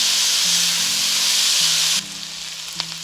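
Mixed fried rice stir-fried in a pan over high heat, giving a loud, steady sizzle that runs unbroken for two seconds, then drops to a quieter hiss with a few light utensil scrapes.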